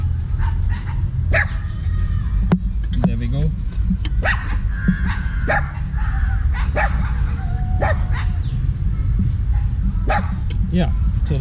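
A dog barks repeatedly in short, sharp bursts at moderate distance during a car maintenance job with an engine treatment additive, the barks scattered over steady low rumble and some nearby talk.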